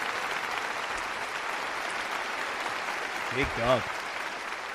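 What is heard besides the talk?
applause welcoming podcast guest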